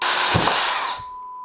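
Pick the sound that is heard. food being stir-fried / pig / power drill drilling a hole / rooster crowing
power drill drilling a hole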